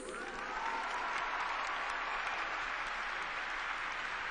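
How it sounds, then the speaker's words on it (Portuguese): A large crowd applauds for Jesus at a gathering led by Padre Fabio de Melo, sustained, dense clapping heard at some distance, steady and even throughout. "uma salva de palmas para Jesus"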